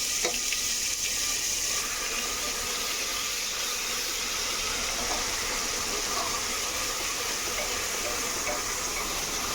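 Ground masala paste fries in a pan with a steady soft sizzle and hiss, faint and continuous, with occasional stirring scrapes.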